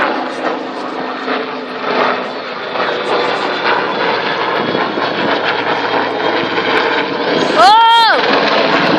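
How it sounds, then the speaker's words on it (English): A helicopter performs a roll at an RAF Cosford air show, its rotor roar loud and continuous with a sweeping pitch shift near the end, while an announcer talks over it. "to see the very first roll by a helicopter that you may have seen this year"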